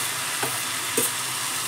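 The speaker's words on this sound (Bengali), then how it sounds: "ডালের সঙ্গে অবশ্যই চালটাকে ভেজে নেবেন" Rice and lentils dry-frying together in a pan, giving a brief, even sizzling hiss with a couple of soft stirring scrapes.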